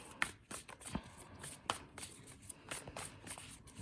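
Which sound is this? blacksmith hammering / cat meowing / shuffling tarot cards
shuffling tarot cards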